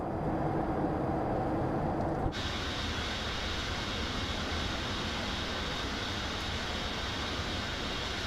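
Boeing 707 jet engines in Microsoft Flight Simulator 2024 roar steadily as the throttles are pushed up during a climb, a loud continuous rumble that shifts in tone partway through.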